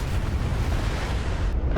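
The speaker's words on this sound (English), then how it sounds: "Look at these rocket strikes." Rocket strikes from a Su-25 Frogfoot ground-attack jet in the flight simulator DCS, a dense, sustained rumble of overlapping explosions with no clear gaps, loud and continuous throughout.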